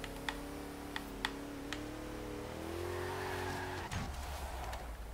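Tires squeal in a long, rising whine as a GMC drifts in Forza Horizon 3, over a steady engine hum and a few sharp ticks, close and moderately loud.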